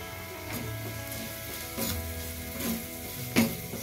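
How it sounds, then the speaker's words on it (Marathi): Onion with turmeric, red chilli powder and garlic masala sautéing in a pan: a continuous close sizzle with occasional stirring scrapes and a low background hum, no voices. "चला व्यवस्थित असे परतून घेऊ मसाले वगैरे."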